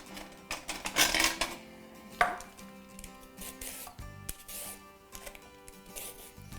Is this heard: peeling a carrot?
yes